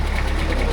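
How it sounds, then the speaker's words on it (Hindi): A Toyota vehicle engine runs with a steady, loud mechanical drone and a faint rhythmic pulsing throughout, with no voices present. "अच्छा पूरी टोयोटा की आवाज़ आ रही है जैसे टोयोटा गाड़ी चलती है ना"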